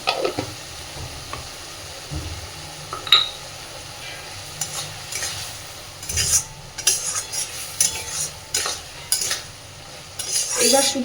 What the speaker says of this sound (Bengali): সবকিছুকে মাঝে মধ্যে নাড়াচাড়া করে করে সুন্দরভাবে কষিয়ে নেব